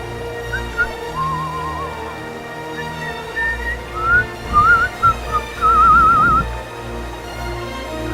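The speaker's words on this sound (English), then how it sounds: "wonderful blistering whistling" A person whistles a wavering, warbling tune in short phrases, close and clear over a steady background hum.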